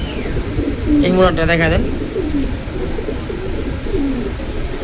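Several pigeons coo in low, repeated phrases at close range, while someone speaks briefly over them near the start.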